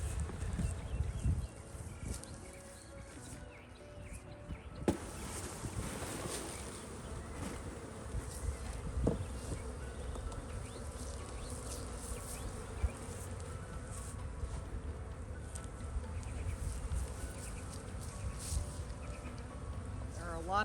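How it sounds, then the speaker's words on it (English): A dense swarm of honeybees being caught into a box hums continuously up close, a steady buzzing drone with occasional faint knocks and handling noises. "The majority of the bees are over here."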